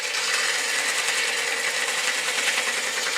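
A wooden sphere display stand sanded on a lathe, its middle worked with sandpaper, producing a steady, bright, continuous hiss with a faint rhythmic flutter throughout.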